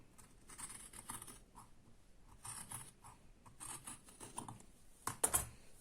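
Scissors cut through fabric for a sewn beret in a series of short snipping and sliding bursts, close and fairly quiet, with a sharper snip near the end.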